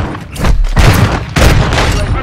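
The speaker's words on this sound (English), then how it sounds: "I'm taking fire." Loud bursts of gunfire and booming blasts ring out in two close volleys during a multiplayer match of Call of Duty: Modern Warfare II.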